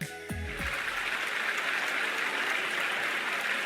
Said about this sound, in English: I'm rewarded with thunderous applause.